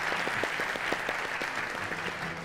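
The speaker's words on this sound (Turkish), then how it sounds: "O yüzden ben alkışlayacaklarını da düşünüyorum tabii ki." An audience claps steadily for a Turkish open-mic talk show, a dense, continuous wash of many hands with distinct sharp claps rising out of it throughout, gradually easing off toward the end.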